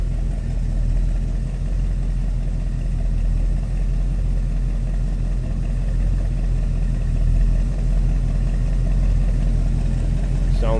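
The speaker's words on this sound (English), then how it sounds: "A little rumble coming out of that big block 454." A 1974 Chevrolet Malibu with a big block 454 V8 idles in a low, steady rumble, loud and close, with no revving across the span.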